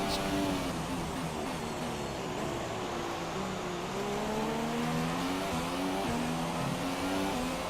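McLaren F1 car in F1 2017 at Bahrain, a loud, close engine whine rising and falling through gear changes in a continuous stream, with no one speaking.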